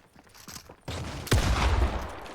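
Video game gunfire erupts midway, a sustained fusillade with one sharp, loud shot standing out, continuing as a dense burst of shooting with no talk over it.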